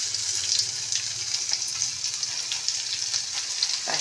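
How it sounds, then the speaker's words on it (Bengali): Dried red chilies and ginger frying in hot oil with a pinch of asafoetida, giving a steady hissing sizzle close by at an even moderate level, with faint clinks from the pan. "এই যে দুটো শুকনো লঙ্কা, একটু আদা তেলের মধ্যে দিয়ে দিলাম"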